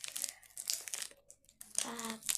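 A plastic package of Richeese cheese wafers is opened up close, giving quiet bursts of crisp crinkling and rustling, with a voice talking softly between them.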